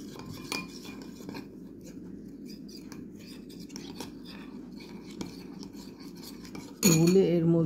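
A spoon stirs a turmeric face pack mixture in a bowl, giving light metallic scrapes and clinks at an unhurried pace, faint and close, before a louder burst of sound at the end.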